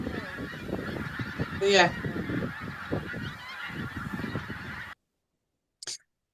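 Geese honking as they arrive over the Moray Firth in the Cairngorms area, a flock's calls in a noisy, continuous jumble with one louder honk, ending in silence after a brief word is spoken.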